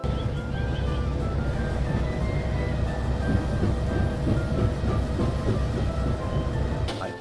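Train coaches clatter steadily along the track, a continuous rumbling roll with rhythmic clicking of wheels over rail joints, close and even throughout.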